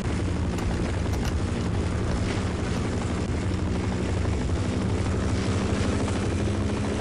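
Helicopter rotor and engine noise from the video game Half-Life, a loud, steady droning thrum that runs continuously and close throughout, with no talking.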